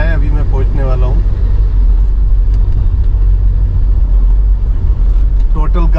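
Steady low road rumble fills the cabin of a car on a long highway drive to Goa, continuous throughout, with someone talking over it at the start and end.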